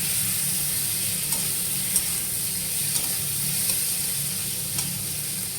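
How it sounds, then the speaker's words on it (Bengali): Chunks of arum root and potato fry steadily in hot oil, giving a continuous close sizzle with a few soft stirring clicks scattered through it and no voices. "এই যে মান কচু আর আলু কেটে তেলে ভেজে নিচ্ছি"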